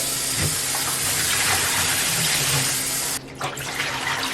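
Tap water runs steadily into a sink as kimchi vegetables are washed under it, a close, continuous hiss and splash with a brief change in flow near the end and no talk.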